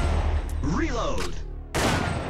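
Gunfire from the Time Crisis arcade shooter comes as loud bursts of game shots with a sweeping effect in between, ending in a sharp noisy blast, and a voice is heard.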